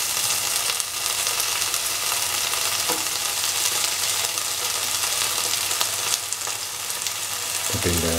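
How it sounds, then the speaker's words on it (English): Loud, constant sizzling of curry leaves, red and green chilies, cilantro and tomatoes frying in oil in a pan, with occasional stirring clatter and no talk. "Now put in the curry leaves and the red chili with the cilantro."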